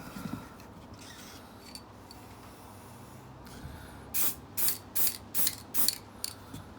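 Satin paint is sprayed onto a Jaguar XFR headlight in a series of short, hissing aerosol bursts in quick succession after a quiet stretch of faint handling noise.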